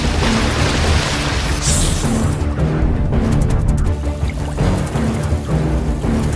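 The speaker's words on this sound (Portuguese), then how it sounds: "A superfície da água explode em um instante." A sudden eruption of water as a large predator strikes a capybara at the water's edge, a loud, dense surge of splashing and churning that fills the whole stretch without pause.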